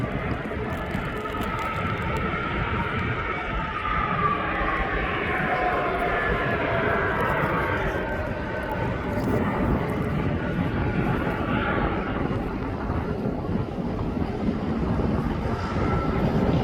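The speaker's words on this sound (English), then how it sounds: "Just as she's making her way out of DHL's area, she's coming now round towards runway 9." An aircraft taxis toward runway 9 for departure at East Midlands Airport, a steady, broad engine roar with a rising whine that lasts throughout, heard from a distance.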